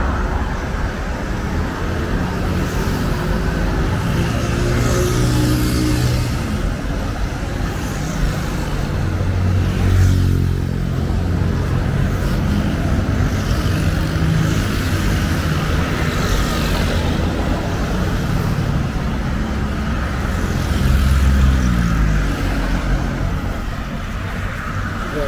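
Steady road traffic at a busy junction at Port-Bouët on the southern entrance to Abidjan, cars, buses and trucks rumbling past continuously at close range, with passing engines swelling and fading throughout.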